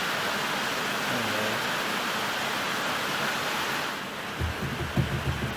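Rain falls outdoors beside an 1984 Mazda RX-7 under repair, a dense, steady hiss filling the air, with a few soft low thumps and knocks near the end.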